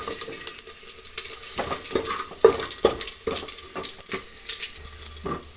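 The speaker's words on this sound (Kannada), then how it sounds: "ಈರುಳ್ಳಿ ಚೆನ್ನಾಗಿ ಬಾಡಿಸ್ಬೇಕು." Onions sautéing in a pan for drumstick-leaf bassaru, with a steady hiss of frying broken by repeated scraping and stirring strokes of a utensil, close and moderately loud, no talking.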